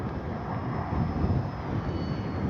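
A Kavan Pilatus PC-6 Porter RC model airplane flying in strong wind, its engine a steady distant drone mixed with low rumbling wind buffeting.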